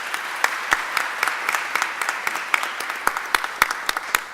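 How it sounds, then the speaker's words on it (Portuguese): Sparse, scattered handclaps from a small group at a municipal councillors' party meeting in Rio de Janeiro state, individual claps ringing out irregularly rather than as dense applause. "salva de palmas para as mulheres"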